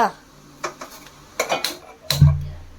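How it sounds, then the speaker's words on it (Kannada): A metal milk vessel is set down on a lit gas stove in a home kitchen, giving a few sharp clanks and clatters of pot against the grate, with a heavier knock near the end. "ಗ್ಯಾಸ್ ಹಚ್ಬಿಟ್ಟು ಹಾಲು ಪಾತ್ರೆ ಇಟ್ಕೊಂಡು ಬರ್ರಿ ಫ್ರೆಂಡ್ಸ್"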